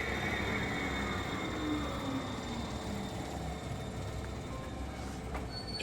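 An old Soviet-era steel train arriving at an empty platform at night, a continuous low rumble of wheels and carriages with faint high squealing tones running throughout, steady and moderately distant.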